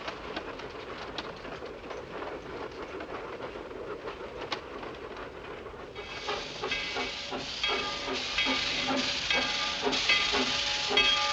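A steam train stands at a rural western station on the line toward Albuquerque, releasing a loud continuous hiss that swells in the second half, with faint birdsong in the background.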